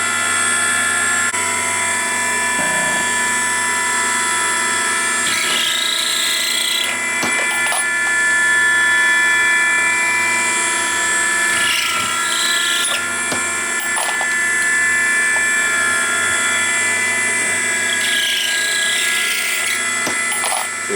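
A Dillon 650 progressive reloading press trims and chamfers 30-06 brass cases, producing a loud, steady motor whine with recurring mechanical clunks and ratcheting every few seconds, and no talking.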